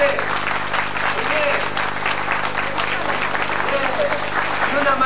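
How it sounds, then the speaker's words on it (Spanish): Applause from an audience at a school poetry contest, moderate clapping with scattered individual claps and a low steady hum underneath, continuing for several seconds. "Un aplauso para el cuerpo docente y para la dirección de la Escuela 3"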